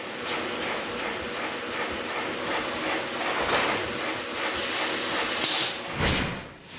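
A shin press machine squashes a metal knuckle smooth and flat, giving a continuous hissing, steam-like rush with a few sharper bursts and a swell near the end.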